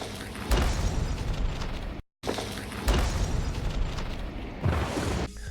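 Video game explosions boom out in heavy bursts, two loud blasts separated by a brief cut of silence, followed by another rumbling burst near the end, with no talking.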